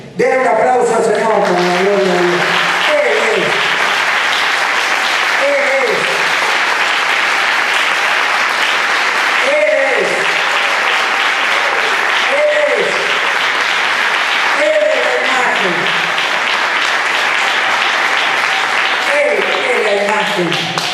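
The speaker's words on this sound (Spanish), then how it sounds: "Den un aplauso al Señor con la gloria de Dios." A church congregation claps for the Lord during a Spanish-language sermon. The applause is loud and sustained for about twenty seconds, with voices calling out in repeated bursts over it.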